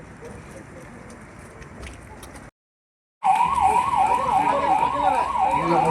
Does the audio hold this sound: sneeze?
no